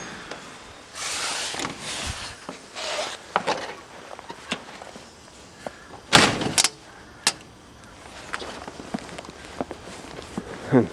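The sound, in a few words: footsteps and the front door of a house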